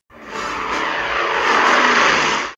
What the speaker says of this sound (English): We both looked in the sky to see a P-40 Warhawk fighter plane roaring through the air.